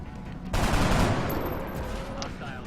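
Gunfire in the video game XCOM: Long War, a loud sustained burst of shots starting abruptly and trailing off into a rumbling tail.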